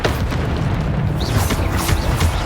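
A Bombarda spell explosion in Hogwarts Legacy, a dense booming blast that rumbles continuously with crackling debris and a few sharp bursts layered through it, loud and close.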